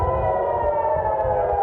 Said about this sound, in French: Toute la nuit en Israël, les sirènes d'alerte ont retenti.